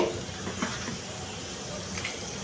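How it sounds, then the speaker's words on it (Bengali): Whole cumin and a dried red chilli tempering in hot oil in a kadai, giving a soft, steady frying hiss that stays fairly quiet and even throughout. "ফোড়ন দিলাম এটা একটু আমি ভেজে নিচ্ছি"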